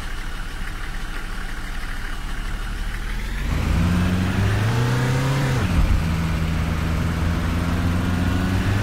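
BB40 minibus engine in Tourist Bus Simulator, idling low at first, then rising into a loud steady drone as the bus pulls away and drives, with a brief dip and surge of revs partway through.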